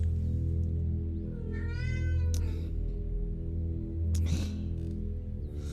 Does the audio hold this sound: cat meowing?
yes